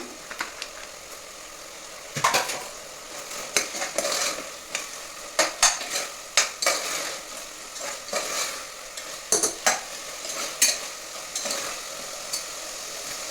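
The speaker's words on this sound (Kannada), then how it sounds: "ಇದಕ್ಕೆ ಜಿಂಜರ್ ಗಾರ್ಲಿಕ್ ಪೇಸ್ಟನ್ನು ಹಾಕ್ತೇನೆ." Ginger garlic paste fries in a hot pan for a chicken gravy, a steady sizzle broken by repeated scraping stirs and spoon clacks against the metal, close and fairly loud, with no talking.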